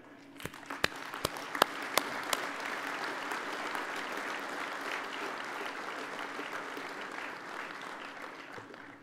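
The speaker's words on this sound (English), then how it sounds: "you deserve a round of applause for that" An audience at a union convention keynote address breaks into sustained applause, a dense wash of many hands clapping with a few sharp nearby claps at the start, steady throughout.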